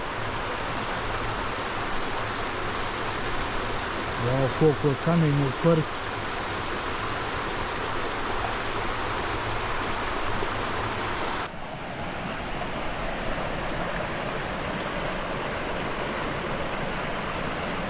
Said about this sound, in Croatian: rijeka Ilonska